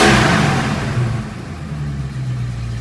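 V8-era engine of a 1973 AMC Hornet revving loudly up close and then settling, the rough exhaust roar holding steady as it warms toward operating temperature, with a slight pop back through the carburetor.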